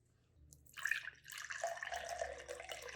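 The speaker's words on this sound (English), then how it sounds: "Our next step is to take our saltwater solution and carefully pour it in" Saltwater solution poured carefully into a cup, a steady trickling stream that starts softly and continues for a few seconds, close and clear with no talking.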